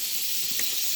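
Butter sizzles in a cast iron skillet, a brief, steady, close hiss with no talk over it.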